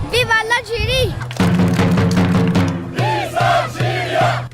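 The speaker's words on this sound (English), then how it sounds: "it's such a fun chant and gathering they have going on there" A crowd gathered to cheer on their World Cup team chants together in loud, rhythmic bursts, with voices rising and falling in repeated shouted phrases close by.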